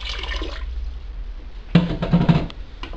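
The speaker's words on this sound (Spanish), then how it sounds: "Voy a echar media lata del agua también." Water poured into a pot of Indian potato curry, a soft sloshing pour at the start, a quiet pause, then splashing and bubbling liquid sounds toward the end.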